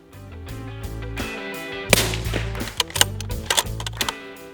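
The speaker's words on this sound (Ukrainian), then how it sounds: "Другий постріл." A single rifle shot in PRS-style precision shooting cracks out sharply partway through, standing above a steady tonal musical background that carries on around it.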